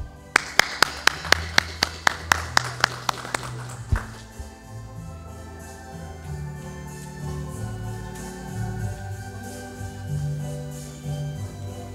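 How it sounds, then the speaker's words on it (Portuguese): A quick run of sharp hand claps gives way to a steadier wash of clapping from a group in a city council chamber session, continuing for several seconds. "Uma salva de palmas"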